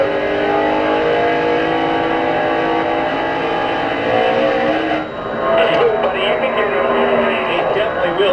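A NASCAR race car at the 2002 Pop Secret 400 accelerates hard off turn two with its tires spinning, a loud, sustained engine roar that shifts and surges about midway, heard under race commentary.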